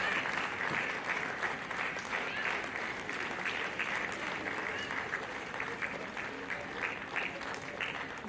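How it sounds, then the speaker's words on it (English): Sustained applause from an audience at a felicitation ceremony in Chandigarh, a dense, steady roar of clapping that continues without break, loud and close. "Please continue with the applause"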